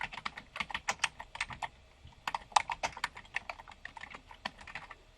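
Keys clatter on a computer keyboard as a web search is entered, a close, rapid flurry of crisp taps in two bursts separated by a short pause.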